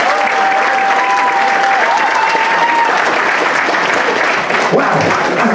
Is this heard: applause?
yes